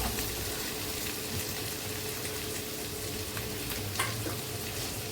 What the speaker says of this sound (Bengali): সবগুলো আমার ভাজি হয়ে গেছে।